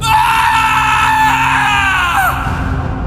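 A man named Rahul lets out a loud, sustained scream of horror in a dramatized horror story scene, the shrill cry holding steady before breaking and trailing off near the end.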